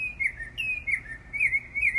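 A bird outside a window chirps in a steady series of clear, high, whistled notes, about seven or eight calls over two seconds, fairly close and alone over faint background hum.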